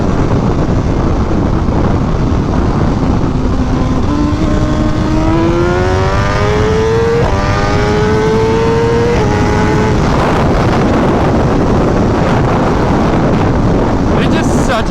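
BMW S1000RR sport motorcycle with a drag setup riding along a bumpy road: steady loud wind roar and rumbling engine throughout, with a rising engine tone climbing through the gear for several seconds midway.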